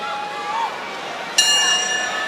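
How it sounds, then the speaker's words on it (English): A single bright boxing ring bell strike rings out sharply and lingers at Madison Square Garden, over a murmuring crowd and a faint voice. "hears that history ringing bell here at MSG"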